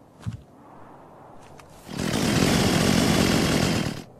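A chainsaw in the Unturned video game starts up and runs at a loud, steady roar for about two seconds after a brief quiet lead-in with a few soft knocks.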